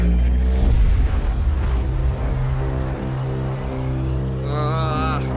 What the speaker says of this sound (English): Prepare for hyperspace jump.